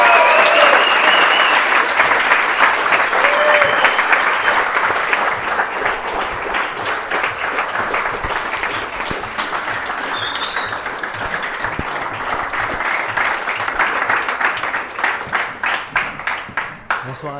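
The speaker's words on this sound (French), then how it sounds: "je vous demande, s'il vous plaît, un tonnerre d'applaudissements pour Thomas Mathéossian" Loud, sustained applause from a large audience welcoming a speaker at a conference, dense clapping that swells and then thins into scattered claps, with voices murmuring beneath.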